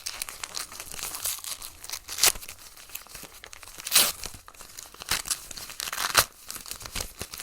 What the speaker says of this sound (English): Shame taking this lovely paper off, isn't it?